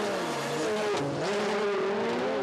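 Formula Drift cars at Suzuka in Japan, engines revving hard with a continuous high tire screech as they slide, loud and close, unbroken for the whole stretch.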